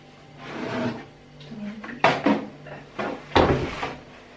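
A refrigerator drawer is slid open or shut while a home fridge is being decluttered. A soft sliding scrape is followed by two sharp, close plastic clunks.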